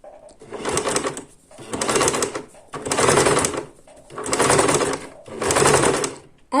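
A sewing machine stitches an appliqué ornament onto fabric in five evenly spaced bursts of whirring, each lasting about a second, with short quiet gaps where the work is turned.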